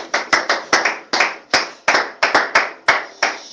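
Church congregation clapping in unison at a worship service, a steady rhythmic beat of sharp hand claps, close and loud, with no voices.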